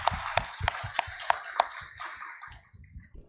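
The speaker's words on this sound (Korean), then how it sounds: "영광의 하나님께 박수를 한번 올려드립시다" A church congregation applauding during a Sunday worship service: a run of sharp, evenly spaced claps that fades into softer scattered clapping, fairly close.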